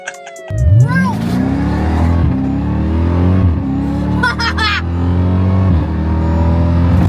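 A Jeep Trackhawk's engine revs hard and pulls while driving, loud and close, with rising throttle sweeps, gear-change dips and a brief tire chirp, plus faint voices in the cabin.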